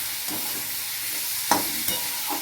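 Banana stem curry with a splash of milk sautéing over high heat in a pan, a steady hiss of sizzling broken by a few sharp scraping stirs, close and fairly loud with no talk.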